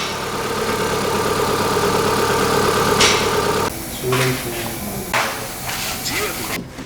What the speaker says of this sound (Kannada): ಜಸ್ಟ್ ಹಾಕ್ಬಿಟ್ಟು ಒಂದು 10 ಮಿನಿಟ್ಸ್ ಇಂಜಿನ್ ರನ್ ಮಾಡಿದರೆ ಒಳಗಡೆ ಇರೋ ಕಾರ್ಬನ್ ಎಲ್ಲ ಆಯಿಲ್ ಜೊತೆ ಬಂದ್ಬಿಡತ್ತೆ